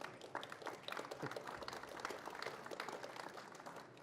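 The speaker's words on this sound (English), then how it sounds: "Please give them a huge round of applause." A conference audience applauds an expert panel on mobile retail customer engagement. The clapping is steady and fairly distant and quiet, a soft patter lasting a few seconds.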